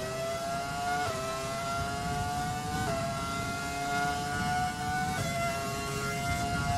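A race car engine in a racing video game league event roars steadily and loudly, its pitch rising and then dropping sharply at several gear shifts across the run, with no talking.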